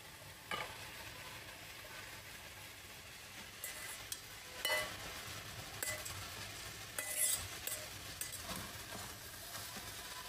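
Mixed vegetables fry with tandoori masala alongside chicken in a pan. A faint, continuous sizzle is broken by occasional stirring scrapes and light clinks of a utensil, with no voices.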